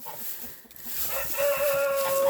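A broody hen building her nest from tossed grass gives a short cluck, then a long, steady, drawn-out call held close by over a faint farmyard background.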